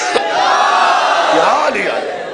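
A large crowd at a Shia religious gathering loudly chants a slogan in unison, a dense sustained roar of many voices that rises and falls throughout.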